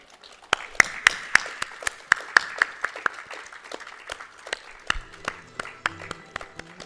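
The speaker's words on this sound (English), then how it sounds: "a huge round of applause, please." Scattered hand claps ring out in a sparse, uneven rhythm, a small audience at an IT retreat talk applauding with individual sharp claps standing out.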